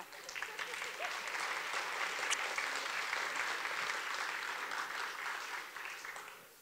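Audience applause rises at a film festival awards event in Calgary, a steady, moderately distant clapping that holds for several seconds and tapers off at the end.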